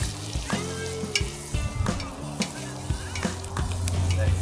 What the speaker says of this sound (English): let it fry up